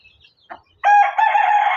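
An Aseel rooster crows once, loud and close, after a couple of soft clucks in near silence.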